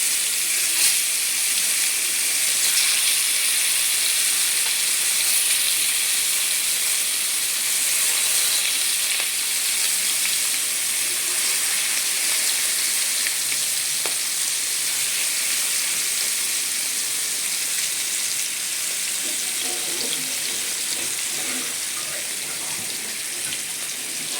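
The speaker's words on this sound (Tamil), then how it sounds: "இப்போது மீனை நம்ம அதில் போட்டுடலாம்" Small nethili anchovies frying in a little hot oil, a dense, continuous sizzle that stays close and fairly loud throughout, with light crackles near the end.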